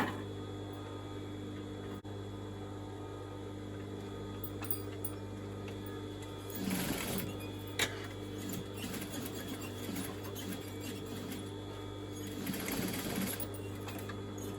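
A sewing machine stitches in the ditch along a side seam of a crushed polyester velvet skirt, a steady motor hum with two brief bursts of faster stitching, close and alone.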